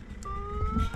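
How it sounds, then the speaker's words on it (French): A multifunction siren fitted to a Renault Clio III gives a faint, steady electronic tone that climbs slowly in pitch over a low background rumble. "cette version est aussi équipée d'une sirène multifonction"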